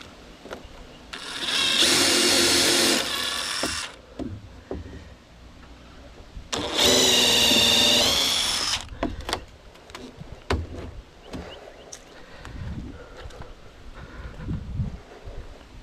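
Two sustained bursts of a power drill whirring at close range, each about two seconds long, with clicks and handling noises in between.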